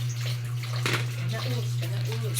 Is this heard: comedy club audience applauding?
no